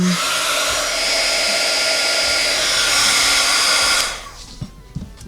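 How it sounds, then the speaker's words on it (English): A heat gun blows hot air in a loud, steady, close roar for about four seconds during a lightsaber repair, then cuts off. Small handling clicks follow. "And we'll hit from the heat gun."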